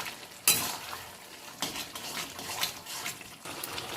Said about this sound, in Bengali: এই ছোটো চামচে চার চামচ চিনি দিয়ে দিচ্ছি দিয়ে আমি ভালো করে শাকের সঙ্গে মিশিয়ে নিচ্ছি